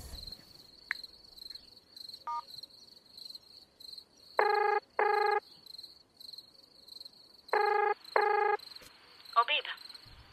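Telephone ringback tone heard during an outgoing call, four double rings in paired bursts, fairly clear over a steady high insect-like hiss in the background.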